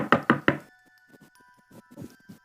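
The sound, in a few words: knocking on a front door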